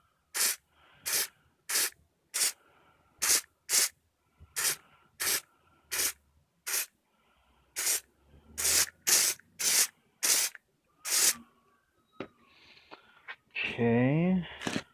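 Short bursts of spray paint hiss close by as speckles are dusted onto a DIY action figure base, about fifteen quick evenly spaced puffs, ending with a crinkling rustle.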